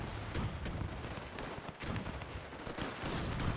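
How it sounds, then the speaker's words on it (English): Cannons firing on Russian troops in the WW1 game Between Empires form a dense, continuous barrage of booms and crackling gunfire, with no pause throughout. "So we got these cannons laying fire upon the Russian troops."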